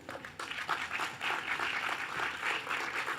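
An audience at a poetry reading in a theatre applauds, a dense, even wash of clapping from many hands that holds steady for several seconds.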